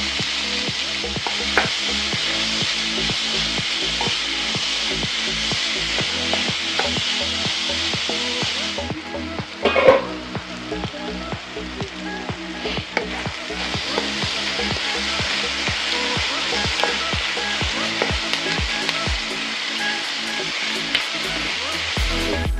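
Onions sizzle steadily in oil while being sautéed in a pan for a potato chicken curry, with frequent scraping stirs of a spoon against the pan and one louder clatter partway through.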